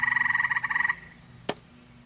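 A frog croaks in a quick pulsing run of about a dozen rapid notes, fairly close, followed by a short sharp click, over a faint steady background hum.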